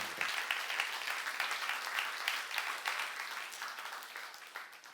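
A church congregation claps during a youth-group sermon, a steady patter of many hands heard from a distance and fairly faint throughout.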